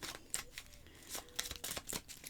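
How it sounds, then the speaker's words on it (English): A tarot card deck being shuffled quietly, with soft, rapid papery riffles and brushing bursts recorded close. "we're doing a pre-shuffle"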